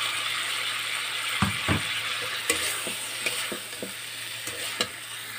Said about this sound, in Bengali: আমি ফুলকপি মশলার লগে বেলা রকম মিলাই দিছি